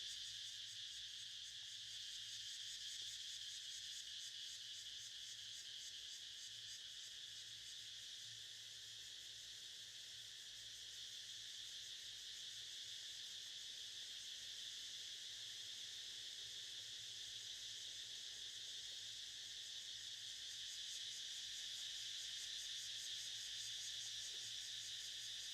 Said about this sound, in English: the cicadas are our meditation bell for today